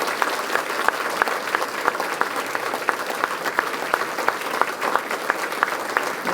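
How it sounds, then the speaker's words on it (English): A concert audience gives a civic band sustained applause, with dense, steady clapping from a crowd that holds at an even level throughout. "So give them a round of applause."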